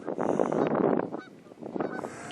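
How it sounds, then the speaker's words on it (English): Canada geese honk loudly and repeatedly up close at a frozen river, a burst of overlapping calls, a brief lull, then another cluster of honks. "Well, Mark, if you can't find Canadian geese in your area, you know why? They're all here."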